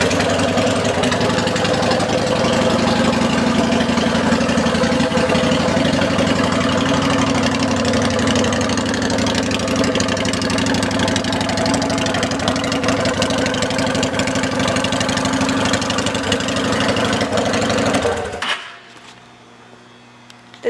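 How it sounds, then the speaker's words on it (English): A 2007 Honda Shadow Aero motorcycle fitted with Vance & Hines exhaust idles steadily and loudly at close range, a deep continuous rumble that cuts off abruptly near the end, leaving near silence. "let's listen to the exhaust."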